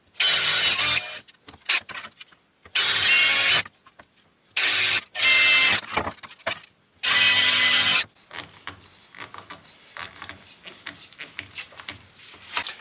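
A power tool cuts a groove into a wooden plate in loud bursts of a second or so, separated by brief pauses and followed by quieter handling noises.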